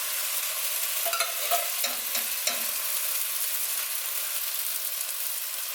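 Canned beans and their liquid sizzle on hitting a hot pot of rice, a steady close hiss with a few brief stirring scrapes.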